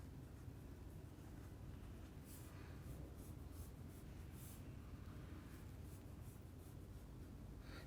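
Marker or chalk writing on a board during a chemistry lecture; faint intermittent scratchy strokes come in short bursts over a low steady background hum.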